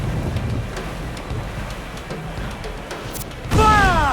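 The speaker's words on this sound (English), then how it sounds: "The wind is picking up nasty!" Steady wind at sea in Assassin's Creed 4 Black Flag, a broad rushing roar around a sailing ship that swells near the end with a louder gust and a splash of surf.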